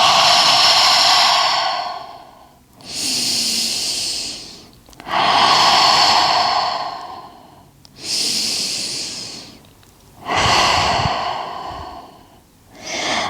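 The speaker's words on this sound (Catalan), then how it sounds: "fes 3 respiracions deixant anar tot l'aire per la boca" A person doing a yoga routine breathes out forcefully through the mouth, five or six long loud rushing exhalations, each lasting about two seconds and separated by brief quiet inhalations, close to the microphone with no talking.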